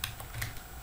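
A computer keyboard gives a few quick close keystrokes in a short burst, as for a copy shortcut while writing PHP code.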